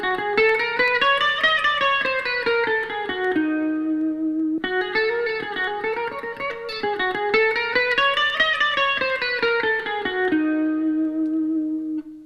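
A guitarist plays a melodic electric guitar phrase, sustained effected notes rising and falling in two similar sweeping runs, each ending on a held note, loud and close with no talking.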